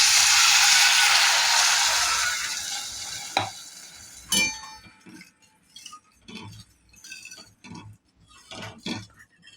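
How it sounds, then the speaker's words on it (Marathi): A glass of water is poured into roasted masala in a hot pan for Latur-style gram leaf curry, giving a loud hissing sizzle that fades, followed by scattered spoon-stirring clinks against the pan. "आता आपण याच्यामध्ये 1 ग्लास पाणी सोडूया."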